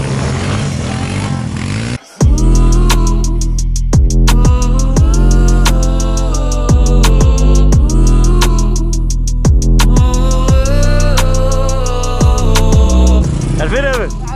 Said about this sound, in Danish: Og vi er ude og køre ATV.